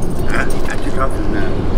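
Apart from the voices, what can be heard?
dog barking and whimpering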